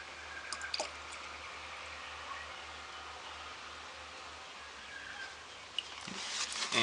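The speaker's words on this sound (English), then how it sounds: "So this coolant I'm adding, it's already been pre-mixed." Pre-mixed coolant poured into the reservoir of a 2.2L diesel Holden Captiva LTZ, a faint, quiet trickle and drip under a steady background hiss, with no one talking.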